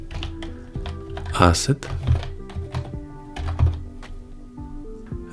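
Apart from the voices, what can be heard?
typing code on computer keyboard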